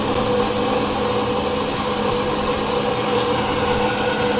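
A Harbor Freight bandsaw cutting through a 5 inch titanium elbow gives a steady, continuous grinding whir with a constant motor hum, close and loud throughout.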